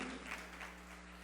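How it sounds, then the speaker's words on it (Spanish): A church congregation applauds at a Sunday service, a short, faint, distant wash of clapping sitting under a steady electrical hum from the room's sound system. "¿Le puedes dar un fuerte aplauso al Señor?"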